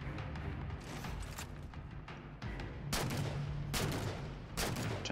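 Booming rifle shots in Halo 4 Spartan Ops, several heavy reports spread across a few seconds with a rumbling background of battle, the later blasts louder and closer.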